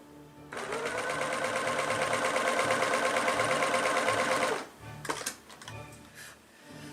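A sewing machine runs steadily for about four seconds, stitching fabric with a fast, even whir close by, then stops and is followed by a few light handling clatters.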